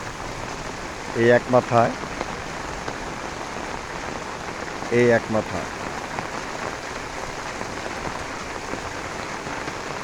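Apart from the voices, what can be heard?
heavy early-morning rain on an empty street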